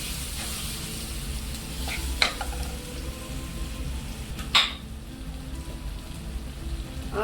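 Kerala-style curry with lemon is stirred in a pan, a steady sizzle under soft scraping strokes, with two brief sharp clinks of the spoon against the pan.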